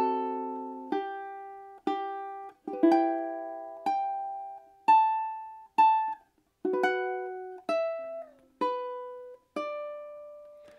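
Strummed ukulele chords play a section of a song at an even, slow pace, about a dozen clean strums, each ringing out and decaying before the next, with nothing else heard.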